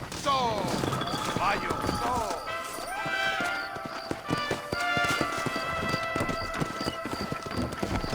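A horse gallops in Red Dead Redemption, with steady rapid hoofbeats close and clear throughout, while voices shout and talk over the running.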